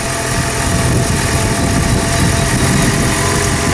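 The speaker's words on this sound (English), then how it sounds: "release the clutch very slowly while applying acceleration with the throttle" A motorcycle engine runs steadily as the clutch is slowly released and the throttle opened, a close, even mid-pitched drone without a clear rise in revs.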